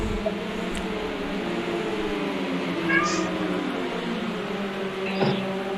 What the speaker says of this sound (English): You can hear your cat is extremely vocal in the background there, Ryan.